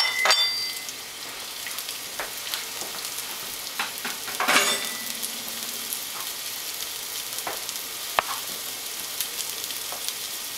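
Pepper pieces sizzling and frying in a heated pan, a steady crackling hiss with occasional clinks and stirring sounds, close and fairly loud.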